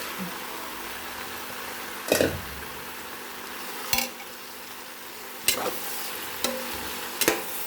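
Chicken marinated in mandi masala frying in sautéed masala, a constant close sizzle punctuated by five sharp stirring scrapes against the pan at irregular intervals.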